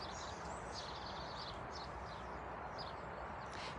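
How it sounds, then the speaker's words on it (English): Faint birdsong chirps from several bird species drift over a steady hiss of distant motorway noise, several short calls scattered throughout. "You can hear the birds singing."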